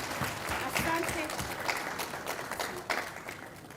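Audience applause fills a live FAWE Kenya gathering on teen pregnancies, a steady dense patter of many hands that holds for several seconds while voices speak faintly underneath.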